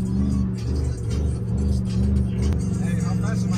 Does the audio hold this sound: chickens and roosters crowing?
no